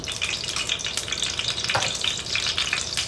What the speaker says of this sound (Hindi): सबसे पहले कढ़ाई में आप डालिए 2 चम्मच घी